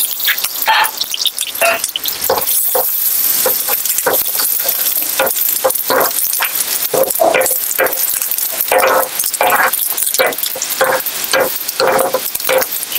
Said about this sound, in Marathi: तेल गरम झाल्यावर त्यामध्ये थोडासा कांदा घ्यायचा, कांदा आणि थोडासा टोमॅटो टाकतोय आपण.